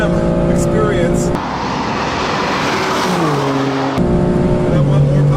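A 2015 BMW M3 engine pulls hard at full throttle along a race track straightaway at Road America, with a loud rising engine note, gear shifts and rushing wind, and someone talking over it.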